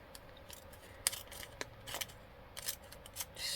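Scissors snip through paper in a few separate cuts, soft and close, for a handmade happy mail craft, with faint rustling between the sharp snips and no talking.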